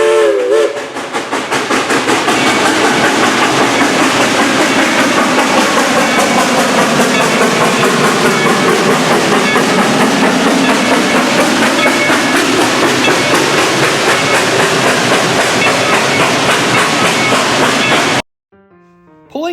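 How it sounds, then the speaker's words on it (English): Dollywood Express locomotive No. 70, a 1938 Baldwin 2-8-2 Mikado steam engine, blows a loud, sustained whistle over hissing steam and chuffing for most of the clip, then cuts off abruptly. "70 was a 282 Mikado-style steam locomotive built in 1938 by the Baldwin Locomotive Works in Philadelphia."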